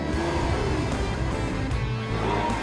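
Lamborghini Aventador accelerating on an open road, a loud, sustained engine roar heard close up from inside, steady and continuous with slight rises in pitch.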